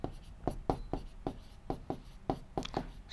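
Someone writes out a maths answer in quick, distinct strokes, about a dozen scratchy taps and scrapes in an uneven rhythm, close and fairly soft, with no talking.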